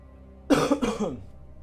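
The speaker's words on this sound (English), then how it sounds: "I just coughed" A person coughs close to the microphone, two quick harsh bursts in a row, like a throat-clearing hack, during a home recording of strategy-game commentary; silence falls on either side.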